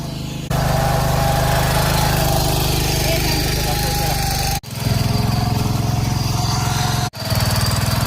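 Tractor engine running steadily while driving, a loud close continuous drone with two brief dips where the throttle drops for a moment.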